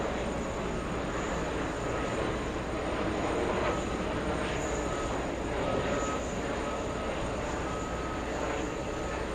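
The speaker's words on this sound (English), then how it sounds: "Let's go for JetBlue takeoff." A JetBlue airliner taking off at JFK airport makes a steady, loud, broadband engine roar that holds level throughout without pauses or voices.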